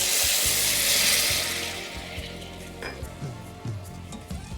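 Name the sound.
onion cooking with balsamic vinegar in a pan, being stirred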